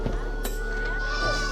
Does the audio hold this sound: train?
no